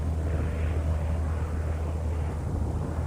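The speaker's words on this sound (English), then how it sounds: "The plane is a standard trainer, the Piper Cherokee." A Piper Cherokee light trainer aircraft, fitted with hand controls, drones steadily with a continuous low engine rumble and broadband wind noise, loud and close throughout, with no voices.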